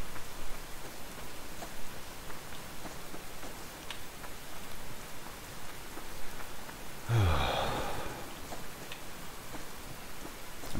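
Rain in the video game Subsistence falls as a soft, continuous patter of drops on surfaces, steady and fairly faint throughout, with a brief low thump partway through.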